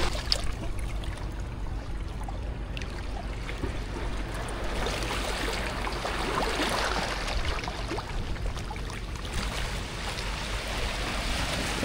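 Boats on the water at El Nido, heard as continuous washing water and lapping waves with a faint low motor drone in the background and no talking.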